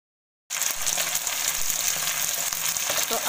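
Onion frying in hot oil with curry leaves, dried chilli and cumin, a loud, dense, continuous sizzle that starts abruptly after a half-second of silence and holds steady, close by with no talking.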